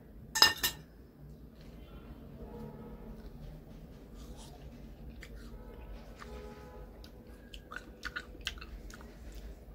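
Someone eats a small piece of mango watermelon, with soft chewing and biting sounds, occasional clinks of cutlery and dishes, and a sharp crunch near the start, close and quiet.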